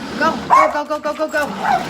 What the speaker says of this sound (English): if it's not the kids, it's the dogs.